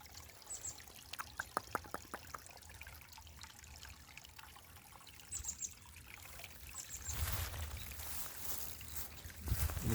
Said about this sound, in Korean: 옆에 계곡물이 잘잘잘잘 흐르고 있고